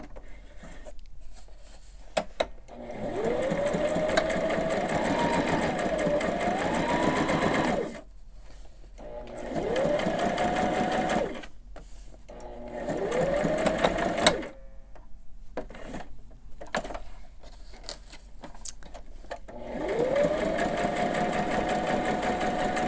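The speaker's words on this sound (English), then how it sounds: "now continuing to sew the bigger piece on" A sewing machine stitches fabric in several bursts of steady, rapid stitching, speeding up and slowing down, with short quiet pauses between runs.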